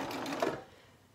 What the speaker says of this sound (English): now I'm sewing with a 4-thread overlock